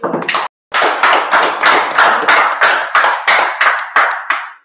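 A church congregation claps together at a service, about a dozen strong, evenly spaced group claps in a steady rhythm after a brief pause, loud and close with no talk over them.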